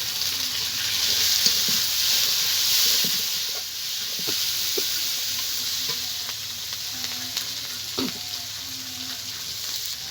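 Tomato and chopped green chili sizzle steadily in a hot pan of oil for jhal sooji (upma), a continuous bright frying hiss with small pops and scrapes, close and fairly loud, with no talking.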